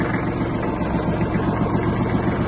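A Japanese Kubota KL-300 mini tractor engine runs with a loud, close, even low rumble and steady vibration, with no voices.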